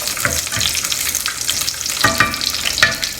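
Whole dried red chilies frying in hot oil in a pan, a continuous close crackling sizzle with stirring noises and a couple of sharper spatters near the end, no voices.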